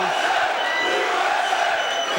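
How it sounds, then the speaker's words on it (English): Large arena crowd at an MMA fight in Mississippi, a dense roaring chant that fills the space steadily and loudly throughout, with no single voice standing out. "the crowd here in Mississippi chanting USA"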